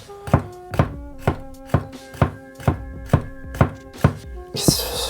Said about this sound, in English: this knife is going through a chili pepper like I've never felt before